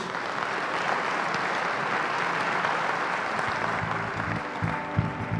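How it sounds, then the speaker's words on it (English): A big round of applause for the panelists at a UN World Tourism Organization statistics conference, dense and sustained clapping from a seated audience in a hall, even in level from start to finish with no talk. "I want to have a big applause for the panelists, please."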